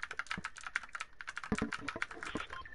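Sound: typing on a mechanical computer keyboard

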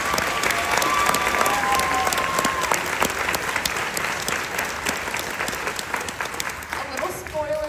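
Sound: audience applause

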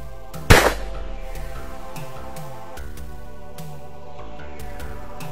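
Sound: rifle shots fired for thermal scope zeroing

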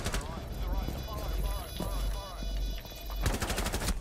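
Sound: gunfire in video game Rainbow Six Siege

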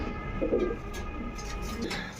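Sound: Danish pigeons cooing

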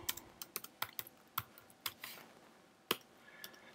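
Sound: typing on a computer keyboard

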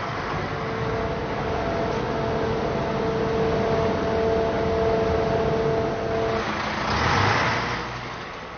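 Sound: concrete mixer truck being loaded at batching plant

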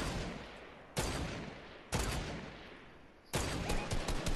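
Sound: gunfire in Fortnite video game

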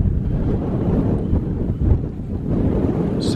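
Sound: strong wind on mountain wild camp

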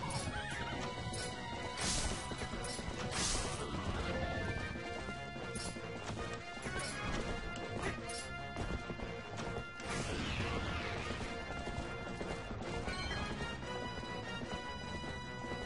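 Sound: horse hooves galloping in Zelda Twilight Princess video game

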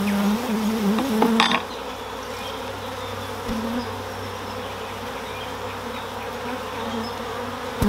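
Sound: agitated bees buzzing

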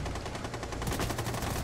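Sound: gunshots in a video game

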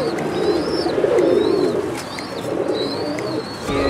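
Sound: Sialkot pigeons cooing on a rooftop

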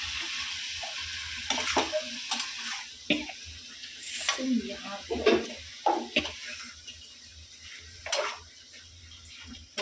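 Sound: soybeans sizzling while frying in a pan

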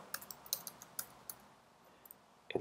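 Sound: computer mouse clicking

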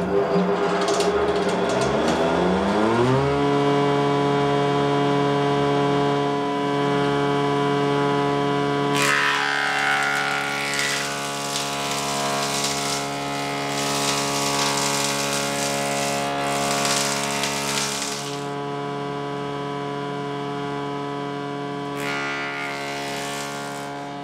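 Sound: planer machine planing heavy milled timber posts

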